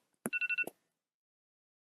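A phone timer alert rings loudly in a quiet room: a short electronic trill of about four rapid tonal pulses framed by clicks, then silence before another brief click.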